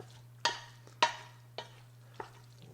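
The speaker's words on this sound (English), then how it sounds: "I'm going to stir that around." Hot egg noodles stirred in a bowl with melting butter for kugel, four distinct scraping, squelching strokes at an even pace over a low steady hum.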